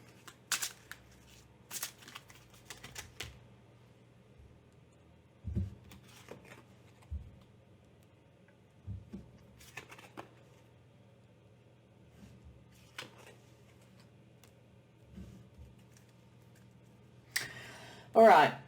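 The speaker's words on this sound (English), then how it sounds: "and then I'll shuffle again for you." Cards are shuffled in a few short riffling bursts spread through the clip, separated by quiet stretches with faint room hum, ending with a louder flurry.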